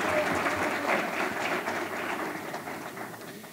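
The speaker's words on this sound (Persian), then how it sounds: "یک تشویقتان کار داریم، یک کف بزنین" Audience applause for MMA fighters at an SLFC press conference, a dense steady wash of many hands clapping that fades slightly toward the end.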